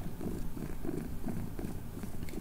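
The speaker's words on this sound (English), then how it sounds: "I'm just glad I'm getting purrs out of him." A cat recovering from feline tooth resorption surgery purrs steadily and close up, a continuous low rumbling throb with a faint rhythmic pulse and no talking over it.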